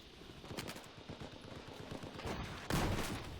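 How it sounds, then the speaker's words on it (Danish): Rapid rattling bursts of machine gun fire in a Battlefield video game, loud and fairly close, with a heavier blast near the end and no talk over it. "Skyder jeg ham fandme."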